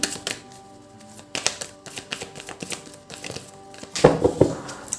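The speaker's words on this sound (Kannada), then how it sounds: "ಇನ್ನೊಂದು ಕಾರ್ಡ್ ತಗೊಳ್ತಾ ಇದ್ದೀನಿ" A tarot card is drawn from a deck with soft, papery taps and slides in a quick irregular run, close and crisp, ending in a louder shuffle of handled cards, with no voice.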